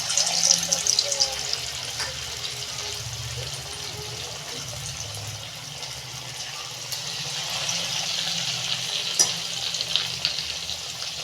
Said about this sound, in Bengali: দেখুন বন্ধুরা তেল গরম হয়ে গেছে আমি পকোড়াগুলো ভেজে দিচ্ছি